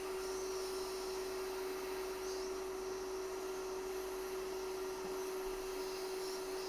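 A hot air rework station blows through a small targeted nozzle to clear underfill from around an iPhone chip, giving a steady, airy whoosh with a constant tonal whine, close and unbroken, with no talking.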